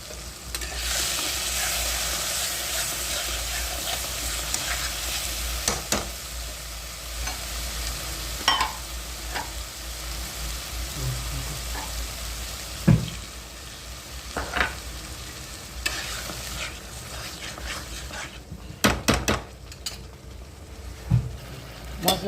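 Masala spice paste of garam masala, turmeric and chilli frying in a pan for a chicken dish, a continuous close sizzle broken by repeated scraping stirs and occasional utensil knocks.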